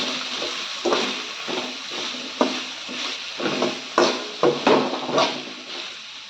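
A spoon stirs macaroni with chicken masala in a pan. Scraping strokes repeat irregularly over a soft sizzle, close up and without speech.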